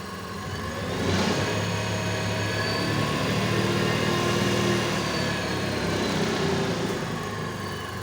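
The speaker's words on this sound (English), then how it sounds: "here you go, the motor is working" An electric motor hums steadily in a generator lab setup, a constant close drone that swells slightly after the first second and holds evenly to the end, with no talk.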